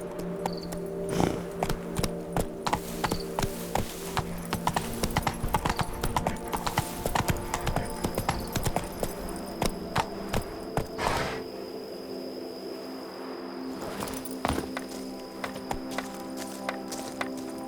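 Steady clip-clop of horse hooves in The Witcher 3 video game, a rhythmic trot running throughout over a faint musical ambience, thinning briefly partway before resuming.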